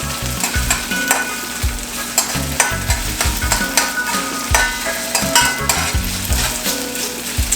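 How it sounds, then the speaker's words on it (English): Potatoes frying in a pan for turkey hash, a steady loud sizzle broken by repeated scraping stirs at an irregular rhythm, close by and with no voices. "make it fry out for probably about 2 minutes before we add in the meat"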